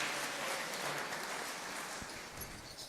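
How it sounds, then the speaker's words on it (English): Audience applause at a youth program, honoring kartal, mridanga and other musical players: a steady, quiet wash of many hands clapping that holds evenly for a few seconds. "Please, big round of applause for all the musical players."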